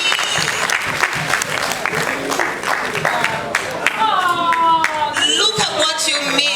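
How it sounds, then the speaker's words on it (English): Sustained audience applause fills a charity concert in the Freetown City Council Auditorium in 2023. Dense, even clapping is joined by cheers and voices rising over it in the second half. "Can we give him a round of applause?"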